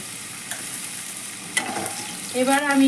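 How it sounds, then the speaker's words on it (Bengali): Fish heads frying in hot oil while being stirred, a steady close sizzle with scraping stirs, and a voice speaking briefly near the end. "এবার মাছের মুড়োগুলোকে আমি ভেজে নেব।"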